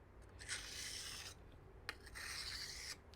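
A knife blade makes deburring passes across a vitrified diamond sharpening stone, producing two close, raspy rubbing strokes separated by a short pause and a faint click.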